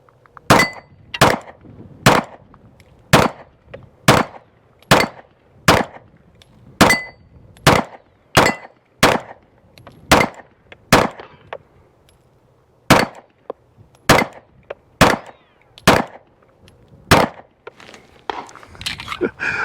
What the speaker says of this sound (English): All right, so that was the first 19 rounds that I put through this gun.